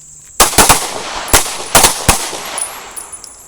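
Several pistols fire during a basic self-defense shooting class, giving two volleys of sharp, loud overlapping shots about a second apart, each followed by ringing echoes and fainter scattered shots.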